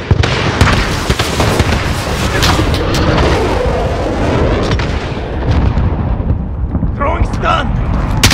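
An artillery strike in Call of Duty: Modern Warfare, heard as a loud continuous barrage of booming explosions and crackling blasts layered over rumble, with gunfire near the end.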